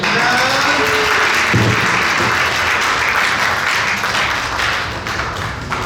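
Audience applause at a tenth-anniversary church celebration, sustained loud clapping from a crowd that continues for several seconds before tapering slightly, with no talk over it.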